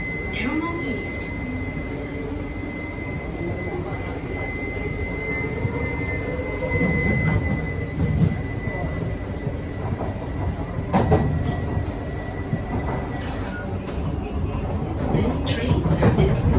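An SMRT Kawasaki & CRRC Sifang C151C metro train rolls between Bukit Gombak and Jurong East, heard from inside the car with a continuous rumble, wheel noise and a faint motor whine, plus a few clunks along the track.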